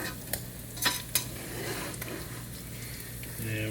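Salmon patties frying in oil in a pan, a soft steady sizzle with a few sharp utensil clicks against the pan and a low hum beneath, no talk.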